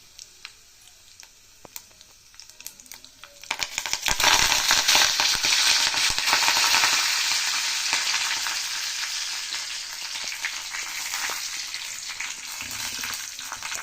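Curry leaves dropped into hot oil already holding cumin and mustard seeds, bursting into a loud, dense crackling sizzle a few seconds in that stays strong and slowly eases, close and alone after faint light pops.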